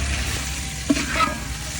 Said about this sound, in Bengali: মাংস নেড়ে চেড়ে দেওয়া হচ্ছে